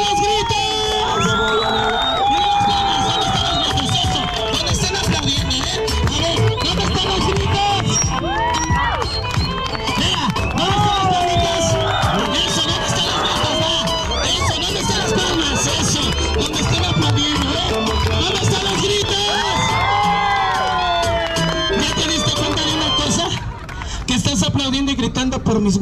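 Audience at a comedy show in a Mexico City restaurant shouting, whooping and cheering continuously over music, with loud mixed voices rising and falling for the whole stretch before a brief dip near the end.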